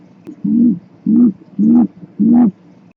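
A roadrunner gives four low, hollow coos at an even, steady pace, each lasting about a third of a second. The coos are clear and close over faint background hiss.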